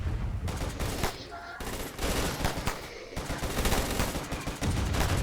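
Sustained gunfire from colonists in RimWorld, a dense, continuous fusillade of rapid overlapping shots with brief lulls, loud throughout the whole stretch.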